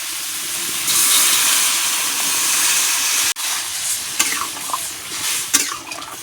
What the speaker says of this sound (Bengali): তো এখন আমি জল দিয়ে দেবো।